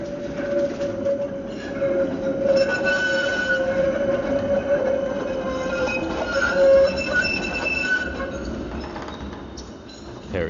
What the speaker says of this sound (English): Tram going by